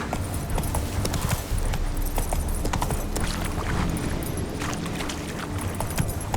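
The horse Roach's hooves clip-clop steadily on the ground in The Witcher 3: Wild Hunt, a continuous rhythmic trot heard up close and fairly loud throughout.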